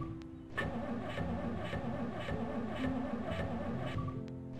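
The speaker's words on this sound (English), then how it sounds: "I guess Jeeps just naturally take a while to start or something." A Jeep in the video game Project Zomboid cranks and fires up, then settles into a steady, rhythmic idle that chugs on at moderate volume.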